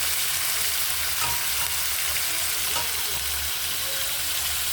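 Washed potato, eggplant, cauliflower and capsicum frying in a pan, a loud continuous hiss and crackle up close with faint scrapes of stirring underneath and no talking.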